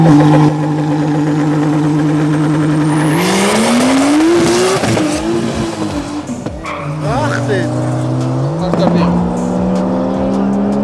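Drag race cars, a Mercedes against a BMW, roar loudly as their engines rev and climb through the gears, with tire squeal and a commentator talking over the racket at a 2025 drag racing opener.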